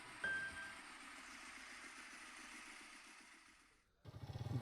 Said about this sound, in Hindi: अविरल ने बाइक वहीं रोक दी।